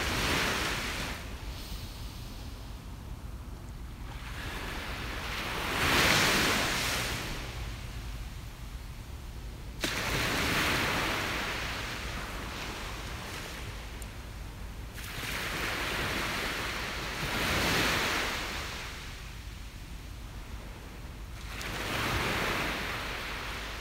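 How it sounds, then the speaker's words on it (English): Steady ocean surf with waves swelling and breaking in slow, repeating surges every few seconds, washing over a constant background roar. "a little more of the sounds of the waves"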